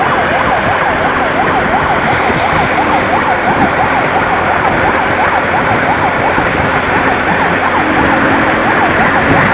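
A wailing ambulance siren cycles steadily up and down, loud and close, over constant road traffic rumble on a Mojokerto route.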